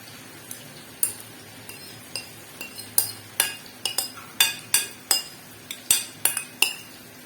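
A spatula mixing marinated chicken in a karahi makes repeated sharp metallic clinks and scrapes, irregular at first and then more regular, close and clear over a faint background.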